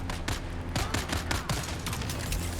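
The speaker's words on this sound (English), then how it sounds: "That's gunfire." Rapid bursts of gunfire crackle continuously in the game Dune: Awakening, overlapping shots with a low rumbling background, like a distant firefight.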